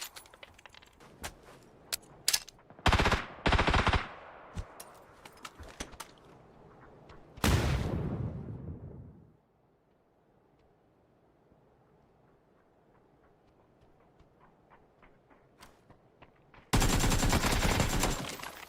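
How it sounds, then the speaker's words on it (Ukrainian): Bursts of gunfire in a shooter video game, some long rapid automatic volleys and scattered single shots, loud and close, separated by quieter stretches. "По ньому хтось стріляє"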